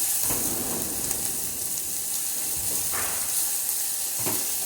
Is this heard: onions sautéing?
yes